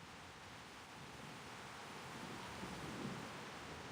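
Steady rain and a low thunder rumble from a video game storm form a soft, continuous wash of noise, with a slight swell in the second half.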